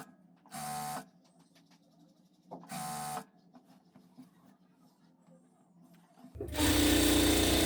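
A sewing machine stitches a salwar seam in two short separate bursts, then breaks into a longer, louder continuous run at the end, heard close with no talk.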